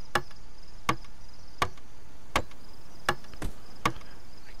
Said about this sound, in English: Let's see if this hammer can handle it. Build floor.